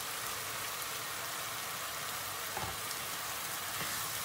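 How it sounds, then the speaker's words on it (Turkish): Tomato paste, chopped tomatoes, peppers and onions sauté in a pan for a spaghetti sauce, giving a steady soft sizzle and crackle that stays faint and even throughout, with no talking. "Salçayla domatesleri, biberleri, soğanları iyice bir kavuracağız."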